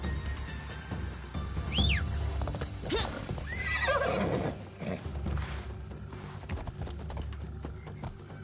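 Horse neighing and whinnying with clip-clop hoofbeats in a video game set in feudal Japan, Assassin's Creed Shadows, while riding toward Katano; a couple of loud whinnies rise over steady galloping hooves and ambient game sound, no talk.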